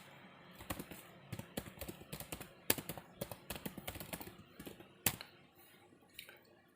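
Quiet, irregular keystrokes on a computer keyboard, typed during router network-interface configuration on a Debian system, with uneven clusters of soft taps and a few sharper clicks, close and alone.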